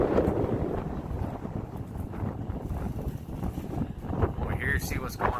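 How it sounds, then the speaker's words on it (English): Strong gusty wind buffets an outdoor microphone as a storm approaches under a tornado watch, a loud continuous roar with rumbling low-end bursts throughout and a voice talking briefly over it. "It's getting windier."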